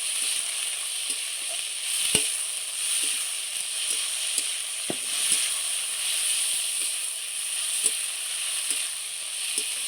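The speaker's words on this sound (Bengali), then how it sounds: "এবার পাঁচফোড়নের সঙ্গে ভালো করে কষিয়ে নিচ্ছে" Oil with five-spice seeds fries and sizzles in a wok, a constant close high hiss with scattered light pops and crackles of seeds and occasional stirring, no voices.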